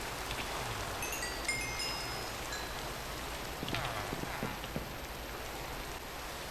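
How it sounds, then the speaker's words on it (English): Steady rainfall in the Minecraft video game, a continuous hiss of drops on surfaces filling the scene at moderate level, with a few faint clicks and soft game noises rising briefly in the middle. "and it's still raining"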